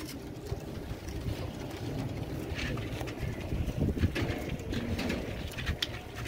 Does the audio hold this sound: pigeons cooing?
yes